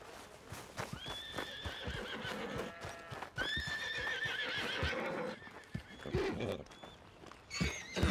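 In Red Dead Redemption 2, a horse whinnies loudly several times, long rising-and-falling neighs, while hooves clop and shuffle close by in the dirt.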